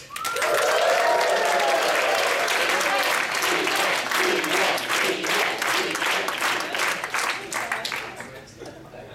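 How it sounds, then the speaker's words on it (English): An audience at a Westpac Private Bank workshop at Club Westpac breaks into loud, dense applause with a few cheers, continuing strongly before easing off toward the end. "Let's cheer it and woohoo it for the doting Deanne Stewart!"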